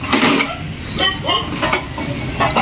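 Plates and cutlery clinking and knocking during dishwashing at home, a close and irregular series of clatters under occasional speech.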